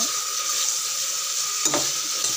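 Tomatoes sauté in a pan for chicken biryani, a continuous close sizzle under brief scraping strokes of a spoon being stirred through, with one louder scrape near the end.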